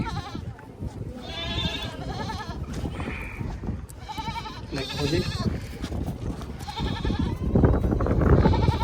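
Several goats bleat repeatedly, close by, with overlapping calls throughout at a goat market in Dhanaula; someone says a few words briefly near the start.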